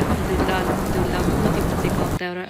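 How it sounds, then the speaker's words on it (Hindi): Steady heavy rain pours down in a continuous loud hiss, dense and close, cutting off abruptly near the end with no voices over it. "ये जब बारिश हो रही थी तो ये देखें कितनी खूबसूरत बारिश है"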